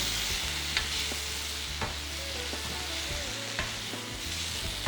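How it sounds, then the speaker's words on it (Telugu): Bottle gourd and tomato pieces frying in oil for a chutney, with a steady sizzle and a spoon scraping and knocking against the pan at irregular intervals, close and continuous. "అన్నీ తిప్పాలి బాగా."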